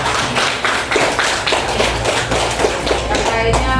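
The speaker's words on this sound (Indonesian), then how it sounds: "Tepuk tangan dulu buat Arya." Students in a classroom clap together in rhythmic, evenly spaced beats, close and fairly loud, with faint voices underneath.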